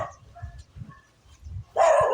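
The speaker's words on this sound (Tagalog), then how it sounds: "Kumakalang aso ng kapitbahay." A neighbour's dog barks a few times, short and moderately distant at first, then louder, closer yelps near the end, with rural outdoor quiet between.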